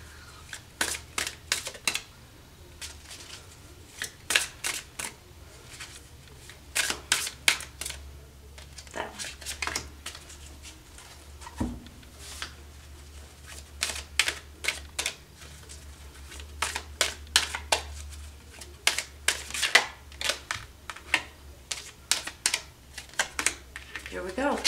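Tarot cards are shuffled by hand in repeated quick riffling bursts separated by short pauses, crisp and close throughout, with a faint low hum underneath and quiet speech in the background.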